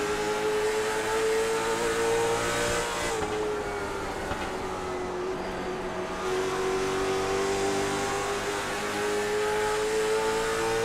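Race car engine from an iRacing LMSC Tour race at Wilkesboro, a steady loud roar throughout with a sustained engine tone dipping and rising as revs change, near and dense.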